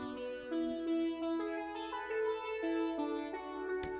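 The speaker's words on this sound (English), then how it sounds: "I went back into Native Instruments and I found a different synth sound" A Native Instruments synth patch playing a slow melody of sustained, shimmering tones, each note gliding into the next, quiet and with no voices.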